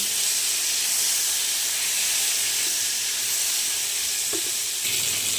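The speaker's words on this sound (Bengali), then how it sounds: "পটলগুলো লাল লাল করে ভাজা হয়ে গেছে" Oil sizzles and hisses steadily as pointed gourd pieces fry in a pan, with a few soft clinks of a utensil near the end.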